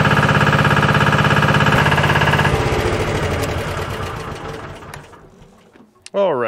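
The diesel engine and hydraulics of a 4x4 JLG man-lift drone steadily as the boom is lifted, then the rumble winds down and fades, with a brief sharp noise at the end.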